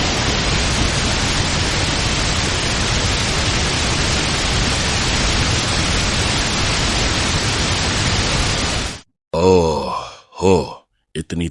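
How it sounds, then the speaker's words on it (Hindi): Heavy rain pours as a dense, even roar for about nine seconds, then it cuts off and a voice speaks in short bursts. "हे भगवान, आज तो बहुत तेज बारिश हो रही है।"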